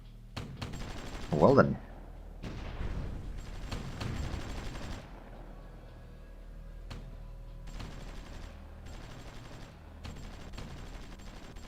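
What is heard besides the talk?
British anti-tank guns firing in Supreme Ruler Ultimate video game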